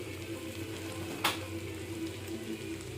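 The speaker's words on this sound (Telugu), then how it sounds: "తర్వాత ఒక 10 నిమిషాలు ఇలా ఫ్రై అయ్యేదాకా ఉంచుదాం" Raw banana curry fries in a pan with a quiet, steady sizzle, broken once by a brief sharp scrape of stirring near the middle; no voices.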